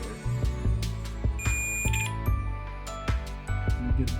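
A series of short electronic beeps and chirps in irregular rhythm, with clicks in between, from a multimeter continuity tester sounding repeatedly on a Wii controller circuit board.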